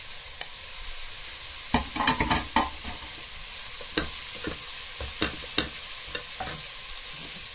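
Grated carrots fry with onions in a pan for lasagne bolognese, a constant hiss of sizzling punctuated by clusters of sharp stirring scrapes and clinks, close and moderately loud.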